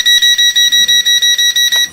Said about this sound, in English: it does make it a really annoying beeping noise